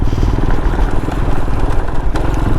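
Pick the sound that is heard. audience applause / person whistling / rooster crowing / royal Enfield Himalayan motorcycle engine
royal Enfield Himalayan motorcycle engine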